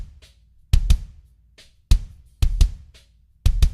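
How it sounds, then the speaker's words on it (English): A layered kick drum built from Yosh Drum Warehouse Legacy samples plays a punchy pattern, sharp deep hits falling in pairs and singles with crisp clicky tops and short decays, alone and loud. "So all of that in combination with my kick sounds like this."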